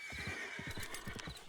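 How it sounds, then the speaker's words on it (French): A circus horse's hooves clip-clop in a quick, steady rhythm on hard ground, close and clear over a constant bright background hiss, with a whinny-like tone running through. "Faites partir le cheval, monsieur, s'il vous plaît."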